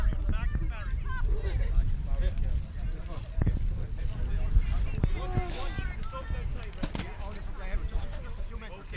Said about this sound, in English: The wind is very, very strong.